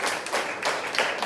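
A church congregation at a Nehemiah revival service claps their hands together in a short, dense burst of rhythmic applause, continuous and fairly close for just over a second.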